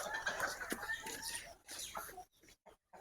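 Hens cluck softly and intermittently up close in a backyard poultry setting, short clucks broken by brief pauses and faint rustling.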